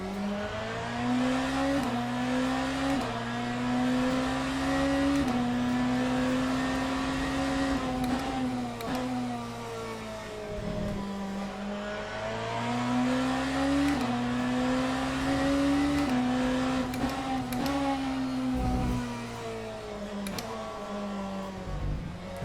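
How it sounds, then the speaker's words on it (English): A hypercar engine in the Le Mans Ultimate racing game revs up and down steadily, its pitch climbing and dropping with repeated gear shifts and downshifts, loud and close with no talking. "I must say it sounds much nicer downshifting than what it does when you upshift."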